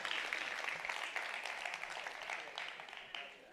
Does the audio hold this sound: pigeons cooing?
no